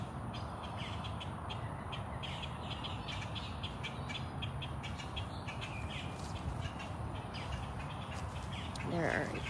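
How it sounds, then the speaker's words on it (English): Many wild birds call outdoors at a big cat sanctuary, with scattered chirps and caws over a constant hiss of outdoor ambience, fairly faint and distant, and one brief louder call near the end. "There are a ton of birds out here right now."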